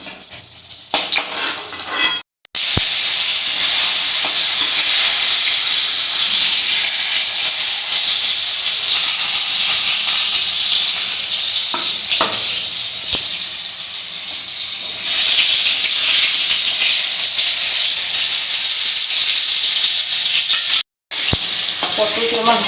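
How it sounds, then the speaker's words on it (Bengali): Pointed gourd (potol) fries in hot oil with a loud, continuous close-up sizzle. The sizzle drops out briefly near the start and end, and a utensil scrapes and clinks now and then. "পটলগুলো আমি লাল লাল করে ভালো করে ভেজে নেব"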